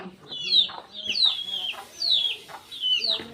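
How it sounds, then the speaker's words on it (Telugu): Several high, thin chick peeps repeat in quick bursts close by, with soft clucking and low murmuring underneath. "కోళ్ళు ఏ తిరుగుతున్నాయి చిట్టి కోళ్ళు"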